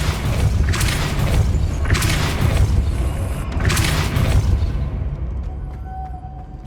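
A Depulso spell in Hogwarts Legacy is cast repeatedly as three loud booming force blasts, evenly spaced, each with a rushing burst, before the sound fades to quiet.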